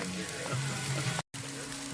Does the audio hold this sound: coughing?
no